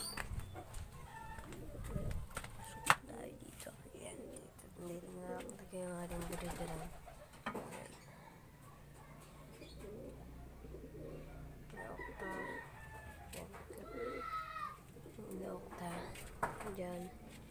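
Pigeons cooing softly nearby in a quiet yard, low repeated coos scattered among faint rustles and background noise, with a person talking intermittently.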